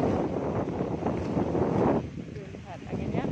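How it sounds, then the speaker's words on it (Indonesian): Strong wind during a heavy rainstorm with a whirlwind, loud gusty blasts buffeting the microphone, then easing slightly in the last second and a half. "Wow, anginnya."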